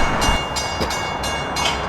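An LIRR commuter train departs the station, a steady rolling rumble with rhythmic wheel clatter and periodic squeals, close by and without talk.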